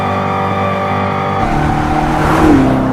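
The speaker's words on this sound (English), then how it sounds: "you don't hear it shifting through gears like how you do in actual cars" A car engine revs steadily at one pitch without any gear shifts, droning loudly and rising slightly near the end.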